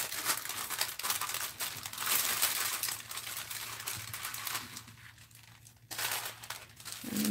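Paper Christmas tag being folded by hand, a soft continuous crinkling and rustling of paper close by, fairly quiet with a brief lull near the end.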